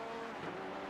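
An Audi race car engine in the iRacing game at the Bathurst 12 Hours hums as a steady, continuous drone, faint and even throughout a short moment.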